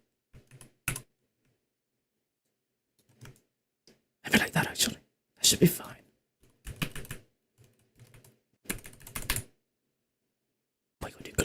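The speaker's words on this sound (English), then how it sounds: "you can listen to my keys" Computer keyboard keys clack in separate short bursts between pauses and near-silence, close and fairly crisp, with a person speaking quietly in places.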